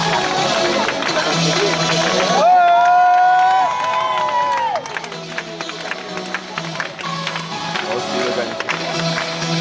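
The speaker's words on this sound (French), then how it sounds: "sous les applaudissements chaleureux" A crowd at a professional wrestling event in Cap d'Agde gives a loud, sustained roar of cheering and applause that fills the whole stretch. Shouts and voices come through the din.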